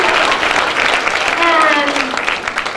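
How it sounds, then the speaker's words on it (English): Audience applause at a fourth-grade elementary school production of the musical Annie Jr., a steady wash of many hands clapping indoors, with an announcer speaking over it. "A round of applause for the Hannigans."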